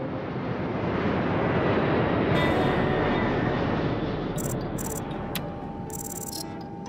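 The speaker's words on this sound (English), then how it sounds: "That's the last airplane for today." Cartoon airplane flying overhead, a loud steady engine roar that swells and holds with a whooshing wash throughout, accompanied by bright electronic chirps near the end.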